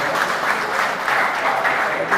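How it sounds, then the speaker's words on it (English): Steady, dense audience applause fills the whole stretch at even loudness, a crowd clapping continuously without a break. "Give yourself a big round of applause."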